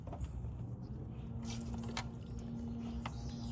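Water trickles and drips from the open sensor port of an AquaCal pool heat pump after the old sensor is pulled out, a faint steady patter with a few sharper drips, close by and without talk.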